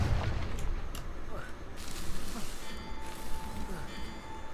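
A Confringo explosive spell blast in Hogwarts Legacy, heard as a burst of booming, crackling impacts that stays loud and dense across the whole stretch, with faint voices in the background.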